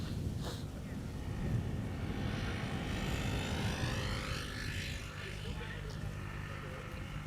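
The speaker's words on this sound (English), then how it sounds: "First airplane to center is approaching." A Boeing 737 Max 8 airliner approaches to land on the center runway at Amsterdam Schiphol Airport, a steady distant jet roar with a slowly shifting whine, continuous throughout.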